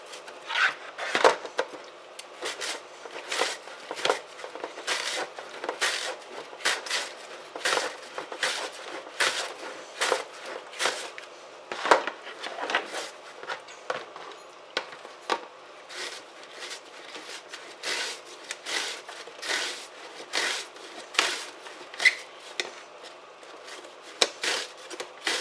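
Pickles and onions are sliced thin on a mandoline, making crisp rhythmic rasping strokes that repeat steadily and close by, one after another, with no one talking.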